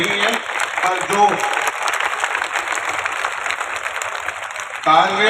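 An audience claps through a sustained round of applause at a devotional bhajan evening honouring Kunwar Kallaji Rathore. A voice is heard briefly at the start and end.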